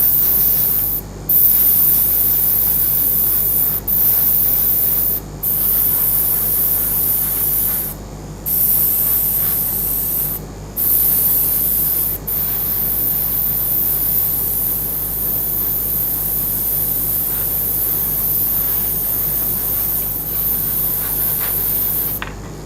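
An airbrush sprays paint in a steady, close hiss that runs almost continuously, broken by several brief pauses as the trigger is released, with no talking over it.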